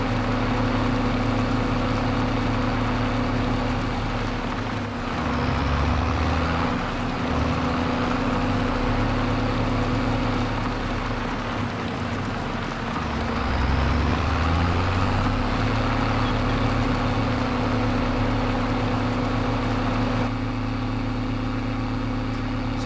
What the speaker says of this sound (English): This tractor, it's running good